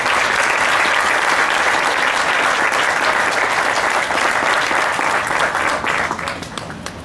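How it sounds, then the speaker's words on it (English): A room full of people at an applied ceramics anniversary event gives loud, sustained applause for the Keramos bond members, dense clapping that holds steady for several seconds and then tapers off at the end. "give the Keramos bond folks a round of applause"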